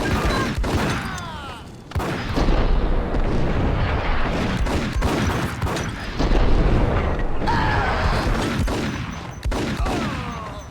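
Gunfire in the Max Payne video game: loud, close bursts of rapid shots and booming blasts come in dense clusters with brief gaps, mixed with clattering mechanical sounds.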